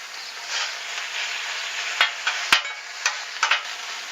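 Beef stir fry sizzles on a hot flattop grill, a steady soft hiss broken by several sharp metallic scrapes and taps from a spatula toward the end, with no talking.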